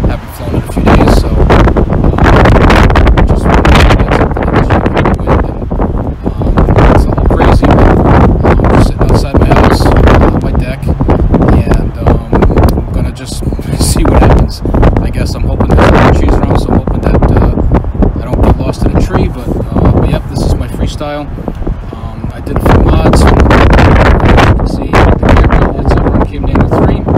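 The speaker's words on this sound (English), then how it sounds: "right now the winds are constant at about 17 miles per hour and they're gusting to about 30" Strong gusting wind outdoors, around 17 mph sustained with gusts to 30, roaring loudly as buffeting microphone wind noise that surges and eases almost nonstop, with someone talking intermittently under it.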